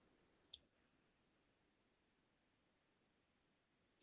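A single crisp computer mouse click, near and faint, standing alone in a quiet room, followed by near silence and the faint edge of another click at the very end.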